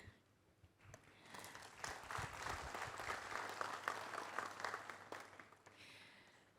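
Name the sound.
applause for Ibu Arifah Fauzi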